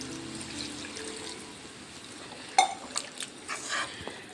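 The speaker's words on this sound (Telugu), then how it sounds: "ఇప్పుడు వాటర్ పోసుకుందాం." Water from a glass being poured into a pan of broad bean and tomato curry, a faint trickle with soft clinks of the pan, quiet and close with no talking.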